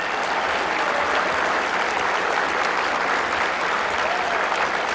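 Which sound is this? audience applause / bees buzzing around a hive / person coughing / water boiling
audience applause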